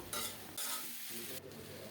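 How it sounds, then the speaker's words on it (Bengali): Broad beans being stirred and fried in a pan, a steady sizzle broken by louder scraping bursts of stirring, close and alone with no voices. "আরও কিছুক্ষণ নেড়ে চেড়ে ভাজা করে নেব"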